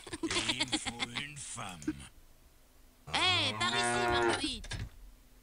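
In a farming game, Démons et Manants, cows give long, loud, close moos, one broken call followed by a fuller sustained one, while a person speaks alongside.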